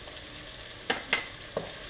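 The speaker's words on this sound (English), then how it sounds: "I'm going to give that a stir." Onions, scallions, ground jeera and hot pepper frying in a pot, a continuous soft sizzle with a few sharp scraping clinks of a spoon being stirred against the pot, close and without talk.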